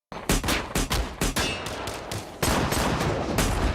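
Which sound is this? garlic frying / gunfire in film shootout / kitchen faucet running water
gunfire in film shootout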